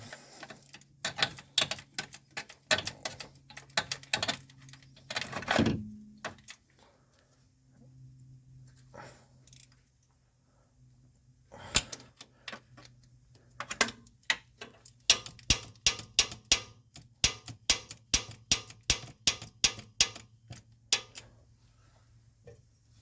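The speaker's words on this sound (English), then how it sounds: "I'm going to use a regular wrench here." Ratcheting wrench tightening a starter bolt on a Chrysler 300, a long run of sharp metallic clicks in quick bursts with short pauses, close and fairly loud, no talking.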